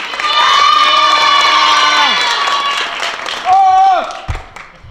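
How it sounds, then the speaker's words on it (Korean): An audience cheers, shouts and claps for a student after a project presentation at a youth school camp. The crowd noise is loud and lively, with drawn-out shouted voices that rise and fall, then ebbs near the end. "네, 송지연 학생에게 큰 박수 부탁드립니다."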